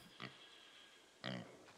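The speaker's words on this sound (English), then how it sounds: "Yep, that's a pig." A pig in the survival game SCUM gives two short, faint grunts about a second apart, with quiet outdoor ambience between them and no voices.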